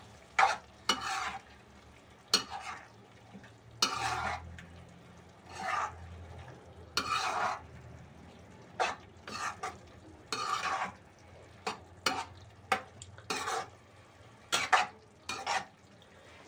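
A spoon stirring egg curry in a pan, a series of separate scraping and clinking strokes in uneven bursts, close and distinct, with faint sizzling between them and no talk.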